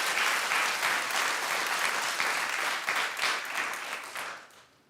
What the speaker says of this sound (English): At the end of the claps, it always sounds like popcorn to me.